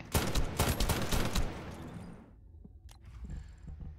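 Rapid burst of gunfire in the sci-fi shooter video game The First Descendant, a loud, dense volley for about a second and a half, then fading to quieter mechanical clicks and a few scattered shots.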